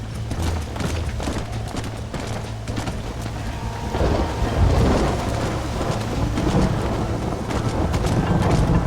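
Steady rain pours with rolling thunder in the video game Red Dead Redemption, the storm swelling midway and staying loud throughout, with no voices over it.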